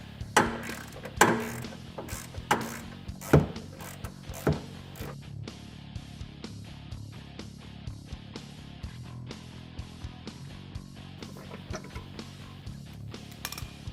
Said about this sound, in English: Next we're going to remove our screws that are holding on our clutch cover.